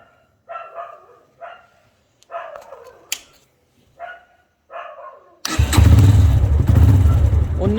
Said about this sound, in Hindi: हल्का सा सेल्फ देने पे बाइक स्टार्ट हो रही है।